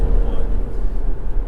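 An Infiniti FX45 SUV under way, giving a loud, steady low engine and road drone from inside the cabin, continuous throughout with no clear speech.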